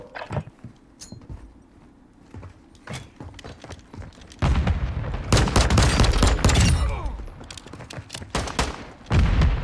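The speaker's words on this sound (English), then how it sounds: "Teammate is shooting at me," Gunfire from a teammate in the video game Warzone 2: scattered single shots early on, then from the midpoint a dense, loud burst of rapid automatic fire with brief pauses, ending in another heavy volley.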